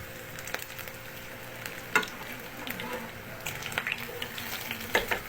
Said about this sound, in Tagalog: Pa-fry natin. Kailangan tamtama lang ako yung ating gagamitin para hindi siya masunog.